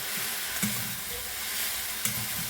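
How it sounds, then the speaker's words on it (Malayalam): Onions and chillies with turmeric are stirred in a hot pan, a soft continuous sizzle broken by two scraping strokes of the spoon. "ഇതെല്ലാതും വീണ്ടും ഇളക്കി മിക്സ് ചെയ്യാം"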